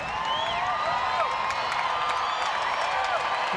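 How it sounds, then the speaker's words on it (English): A packed baseball stadium crowd of more than 36,000 yells and screams in a steady, dense roar. It is loud and continuous, with whistles and shouts cutting through. "these fans have been on their feet and yelling and screaming from pitch number 1"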